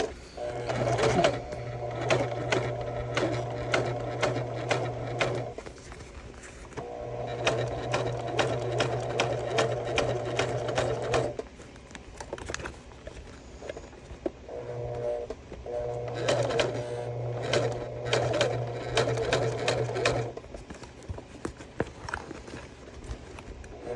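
A sewing machine back-stitches through a fabric bag in three long runs of steady, rapid stitching separated by brief pauses. The machine is close and loud throughout, with faint handling noise between runs.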